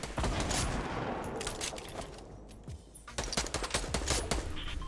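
Rapid automatic gunfire in a Fortnite: Battle Royale match, a dense run of loud overlapping shots that dips briefly and then resumes in a heavy burst.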